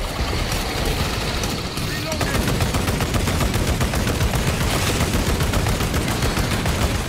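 Sustained rapid gunfire in Warhammer 40K Space Marine 2 with a dense, continuous chatter of shots and rumbling battle noise throughout, loud and close.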